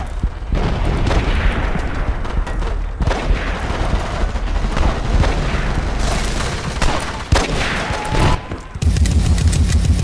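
Gunfire in the futuristic shooter Battlefield 2142: dense, loud bursts of automatic fire and booming blasts run almost continuously through the whole stretch, with explosions punctuating the clatter and a brief lull near the end.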